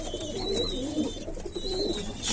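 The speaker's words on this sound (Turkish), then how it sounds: "Kuşlar evet. nasıl kavga ediyor bak." Pigeons in a loft coo and call loudly at close range in agitated, repeated bursts while fighting, with wing flutters and rustling throughout.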